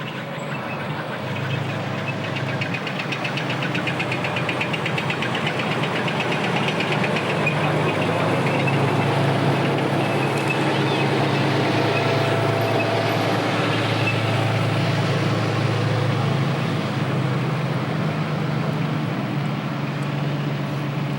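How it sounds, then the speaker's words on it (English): M60 Patton battle tank driving past in a Fourth of July parade, a loud continuous low engine rumble with rattling, clanking mechanical texture that holds steady throughout. "Number 38, M60 Patton battle tank"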